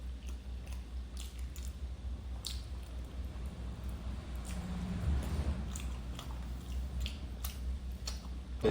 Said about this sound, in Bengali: পায়েসটা একটু খাবো একটু খাই